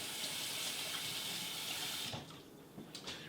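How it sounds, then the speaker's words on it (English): Water running from a kitchen tap to rinse something off, a steady close gush for about two seconds that cuts out into quieter splashes and drips. "Rinse that off"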